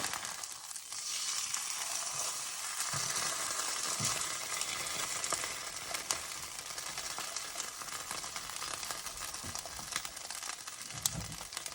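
A birria brisket taco browns in a Ninja Foodi Possible Cooker Pro, a soft continuous sizzle and crackle with faint fizzing, quiet and steady, with a few light scrapes and no voices.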